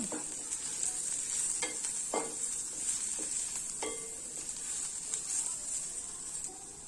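Red chili powder, coriander-cumin powder and garam masala being stirred in a pan, a constant bright sizzle with scattered spoon scrapes and clicks throughout.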